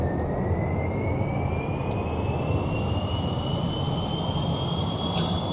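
A simple, quickly built plane in a video game takes off on its own, its engine giving a steady, loud drone with a whine that climbs in pitch throughout.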